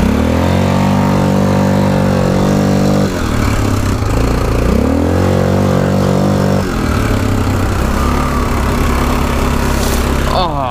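A Yamaha Kodiak 450 ATV engine on mud tires drones loud and steady as it drifts on concrete. The revs climb and drop in sweeping surges, then a sharp burst comes near the end.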